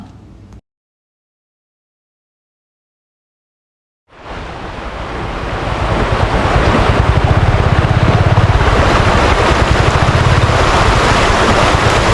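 Rushing water at the Nellipathy overflow dam waterfall in Kerala: after a brief noise and a few seconds of silence, a loud, steady broadband roar swells in and holds, with no voices.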